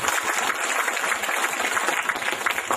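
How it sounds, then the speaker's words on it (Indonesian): An audience at a religious lecture claps loudly and continuously, dense overlapping applause with no pauses throughout. "Tepuk tangan paling meriah buat orang tua kita."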